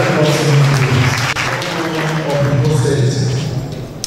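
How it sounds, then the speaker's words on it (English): Applause at a remembrance public lecture for Dr Wahab Oluropo Adegbenro, greeting an honoured guest: loud, steady clapping from the audience, with a voice and music-like tones running underneath. "a round of applause for the"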